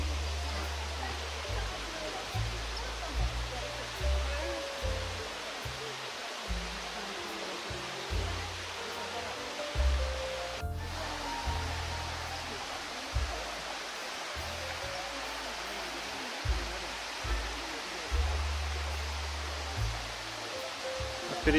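Waterfalls roar in a constant broadband rush at a busy visitor spot, steady and full throughout, with low thumps and handling bumps mixed in.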